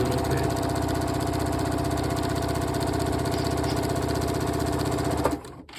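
Janome 9450 sewing machine running fast at turned-up speed, a steady dense mechanical whir and needle chatter that holds evenly for about five seconds, then stops abruptly.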